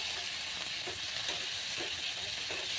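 Spice masala stirred in a pan with a little water, giving a steady broadband sizzle and frying hiss throughout, with faint scraping stir strokes underneath; no talking.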